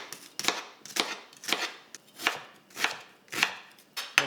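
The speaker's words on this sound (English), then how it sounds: "we'll start with dicing up one onion" A knife dices an onion on a cutting board with about nine crisp, evenly spaced chops, each a sharp close knock, and no talking over them.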